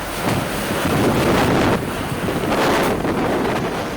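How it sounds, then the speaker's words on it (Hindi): Fierce storm wind in Kochi, Kerala, roaring and buffeting steadily with loud gusts that swell and ease, heavy and close, with no voices heard. "इतना भीषण तूफान कि पूरा शहर कांप गया।"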